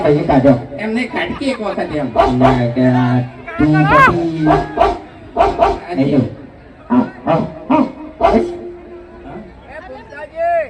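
A man imitates a dog, voicing a series of short, uneven barks and yips, with chatter and chuckling from other people mixed in around them.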